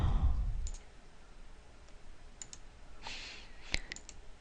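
Computer mouse clicking in short, sharp single and double clicks scattered across a quiet room, fairly close and alone without talk.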